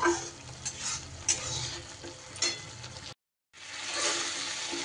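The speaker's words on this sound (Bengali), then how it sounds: "এবার সুন্দর করে মশলা কিন্তু আমার কষিয়ে নিতে হবে, টমেটোর পুরোপুরি জলটা যতক্ষণ না শুকনো হয়ে যাচ্ছে" Masala spice paste with tomato being stir-fried in a pan for navratan korma, a quiet sizzle broken by scraping stirs and a few spatula knocks, with a brief silent gap before the frying resumes.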